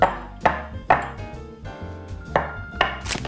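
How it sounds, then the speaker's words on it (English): Cups of semifreddo dessert mix tapped against a kitchen counter to level them, giving several distinct close, resonant knocks at a steady pace with no talking. "So I gotta gently tap the cups against the counter to level the mix."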